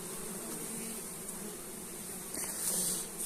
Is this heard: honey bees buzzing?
yes